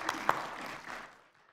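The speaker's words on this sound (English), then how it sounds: "You deserved a round of applause." An audience at a church service gives brief applause for the preschool director, a short burst of clapping that fades out within about a second.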